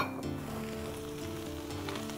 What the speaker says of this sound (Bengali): দিয়ে একটু ভাজা করে নেব।